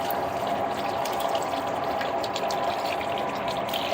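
Fluid gushes out of a 1986 C20 truck into a drain pan, a steady loud splashing pour that runs unbroken throughout with no talking.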